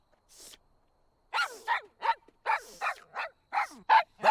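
A small cartoon dog barks repeatedly in a quick series of sharp yips, close and moderately loud, after a faint opening sound.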